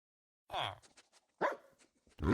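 Dogs in the Minecraft video game bark in short, sharp bursts, three distinct yelps spaced apart with quieter clicks and faint sounds between them, close and fairly clear.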